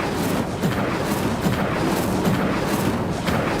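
A roaring, crackling burst of flame from the Incendio fire spell in Hogwarts Legacy, loud and continuous with rumbling surges throughout.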